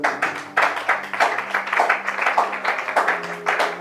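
A church congregation claps in acclamation of the Lord, a dense run of hand claps going steadily for several seconds, with a sustained tone, likely music, underneath.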